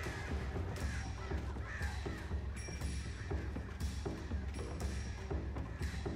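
Crows cawing repeatedly inside the Alan Wake video game, harsh calls recurring across the clip over a dense, steady game soundscape of low rumble and ambience, with no talk.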